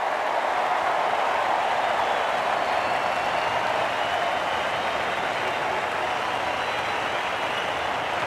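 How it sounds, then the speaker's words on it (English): Crowd roar at a cricket stadium during a one-day international between Australia and the West Indies, a broad sustained wash of cheering and clapping that stays loud and even throughout, distant and diffuse. "The crowd comes alive because Paul Reiffel played one of the best shots of the day"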